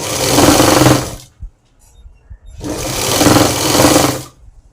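A sewing machine runs in two steady stitching bursts of about a second each while sewing piping onto a blouse, loud and close, with a short pause and faint clicks in between.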